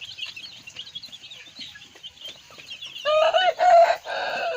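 Chickens cluck and squawk amid a noisy outdoor background as they are released into a rice field, with a burst of louder, closer clucking calls near the end.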